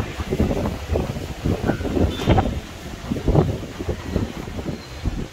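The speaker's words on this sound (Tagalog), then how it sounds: "malakas yung hangin dito guys" Strong gusts buffet the microphone with rumbling bursts, rising and falling in waves throughout.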